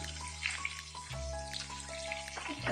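Chopped onions fry in a pan with a soft, steady sizzle and a few light pops, fairly quiet and close.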